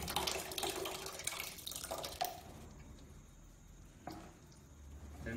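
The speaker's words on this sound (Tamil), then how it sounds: "பால் ஊற்றுறதுக்கு அப்புறமா 2 லிட்டர் வந்து தயிர். ஸோ இதுலேயே வந்து தயிர் அப்படியே ஊற்றுது." Curd being poured into a container while making panchagavya, a soft, faint wet pouring and splashing that trails off into quieter gurgles and a brief splat near the end.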